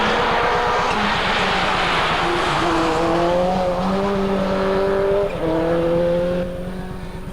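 Toyota Corolla rally car racing on an ice rally course, its engine roaring loud and close with rising and shifting revs, the tone swelling up the gears before easing off near the end.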